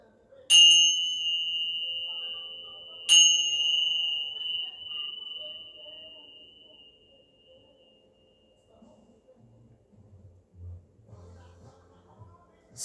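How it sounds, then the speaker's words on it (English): Two bell strikes ring out during a hatha yoga relaxation, each a clear high tone that lingers and fades slowly into quiet, the second following a few seconds after the first. "Let your mind, your body, and your soul absorb the vibrations of the bells"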